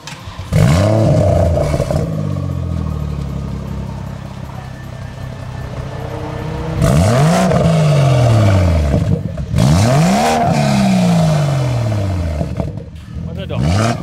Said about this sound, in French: Si tu peux nous mettre 2 petits coups de gaz pour qu'on voit comment ça marche.